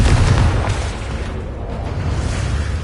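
The blasting spell Confringo from Hogwarts Legacy erupts in a heavy, rumbling explosion, a loud low boom that rolls on and decays slowly without a pause.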